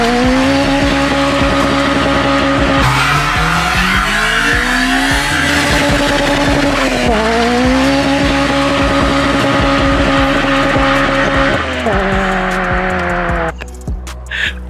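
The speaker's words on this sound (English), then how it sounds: "There's something about bouncing off the limiter of a Honda that never gets old." Honda Civic Type R EP3, a naturally aspirated four-cylinder, revving hard and repeatedly bouncing off its rev limiter, loud and close with steady engine harmonics, brief chattering cuts at the limiter and tire squeal mixed in.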